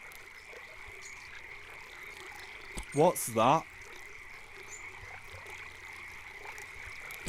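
Frogs croak near a river in the video game Eastshade: two short, distinct croaking bursts stand out over steady ambient water and insect hum, with a brief spoken question nearby.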